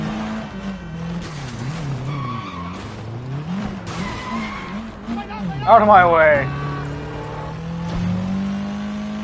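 Racing car driving in Sleeping Dogs, engine revving and shifting pitch with a sharp tire squeal midway, a player's voice talking over it throughout.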